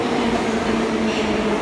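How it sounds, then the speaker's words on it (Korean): Russian metro train running loudly through a tunnel, a steady dense roar with a low rumbling hum that fills the whole stretch without letting up. "지하철을 타고 이제 출발을 하게 되면은 엄청 시끄러워요"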